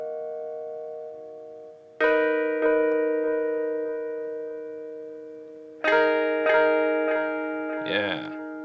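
Electric guitar chords through a ToneForge Jason Richardson amp sim plugin with delay ring out with stacked harmonics, each strum followed by decaying repeats; two main strikes with a wobbling bend near the end.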